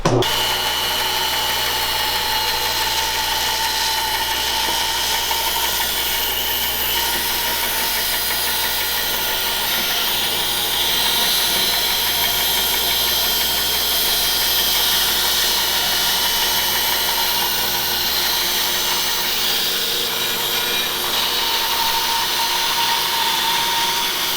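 A Harvey HW615 band saw resaws a board into thin slices, giving a loud, continuous mechanical drone with a steady hum and a faint rhythmic rattle. It runs without pause throughout, with no talking.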